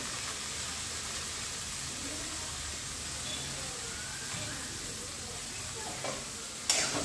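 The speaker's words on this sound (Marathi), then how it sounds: "तर त्यामध्ये आता आपण हा जो बांबू शिजवून घेतलेला आहे तो टाकायचा आहे।" Cooked bamboo shoots tipped into a pan of sizzling spices and coriander, then stirred, producing steady frying hiss with scraping stir sounds and a louder clatter near the end.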